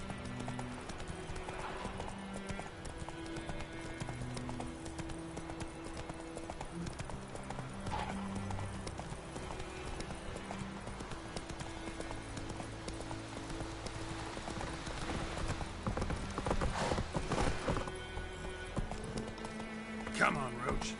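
Roach the horse in The Witcher 3: Wild Hunt, hooves clip-clopping at a steady trot under nearby voices talking, with a brief whinny and louder hoofbeats toward the end.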